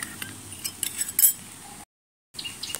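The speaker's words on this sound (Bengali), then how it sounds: "সম্পূর্ণ আমি চিনিটা এইভাবে নেড়ে নেড়ে গলিয়ে নিলাম" A spoon clinks against the sides of a container while stirring sugar into water to dissolve it for homemade yeast, irregular light taps and scrapes, then a brief gap of silence before the clinking resumes.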